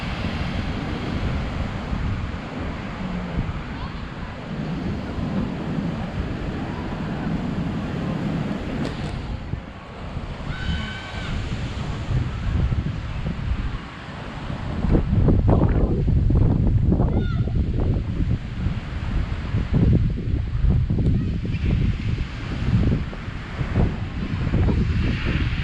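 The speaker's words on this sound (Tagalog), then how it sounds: "Kaya ang lakas ng alon." Strong ocean waves break and rush continuously along the Boracay shore, loud and close, with gusts of wind buffeting the microphone and surges of surf growing heavier in the second half.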